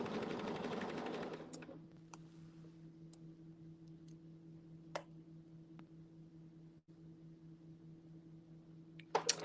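A sewing machine stitching out a quilt border project runs loudly for under two seconds, then gives way to a low steady motor hum with occasional clicks and taps.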